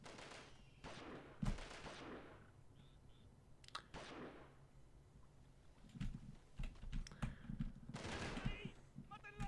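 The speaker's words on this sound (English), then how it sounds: "I'm getting shot at." Scattered gunshots in the 1998 video game Delta Force, sharp isolated cracks and short bursts spread irregularly over several seconds, fairly faint, mixed with background game noise and some voice.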